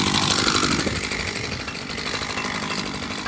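A grass trimmer fitted with a small power harrow attachment runs loud and close, its small two-stroke engine buzzing in a rough, rattling drone that eases slightly after the first second.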